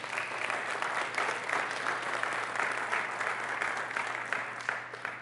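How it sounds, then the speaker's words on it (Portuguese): An evangelical church congregation applauds in a loud, dense, steady roar of many hands clapping together, sustained for several seconds with a faint low hum underneath and no one speaking. "Aplauda ao Senhor."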